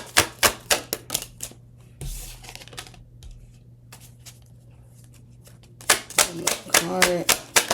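Tarot cards are shuffled by hand in quick, sharp riffling bursts, loud and close, with a pause in the middle while someone speaks softly before the shuffling resumes.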